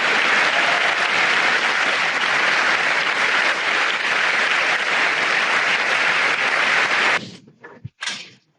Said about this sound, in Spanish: el Papa León XIV bromeaba esta mañana sobre los aplausos al principio de los periodistas durante su primera audiencia